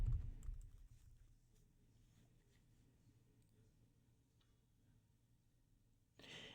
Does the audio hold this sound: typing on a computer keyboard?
yes